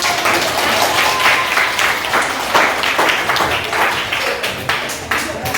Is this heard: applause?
yes